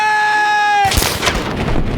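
A rocket launcher fires in the video game Battlefield 3, one loud blast that cuts in after a steady electronic tone and trails off into a rumbling roar.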